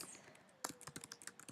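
Keystrokes on a computer keyboard while entering a sentence, quiet at first and then a quick run of sharp, irregular clicks close by, with no voices.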